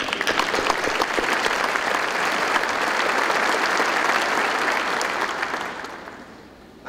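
Sustained, dense applause from a large audience at the College of Charleston's 2014 winter commencement ceremony, steady and loud throughout before tapering off near the end.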